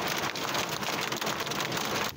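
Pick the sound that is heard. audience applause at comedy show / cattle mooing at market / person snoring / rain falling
rain falling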